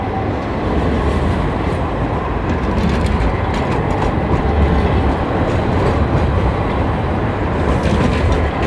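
A tram rumbles past at night on an Istanbul street, a loud, steady, close rolling roar with faint rail clatter throughout, no voices.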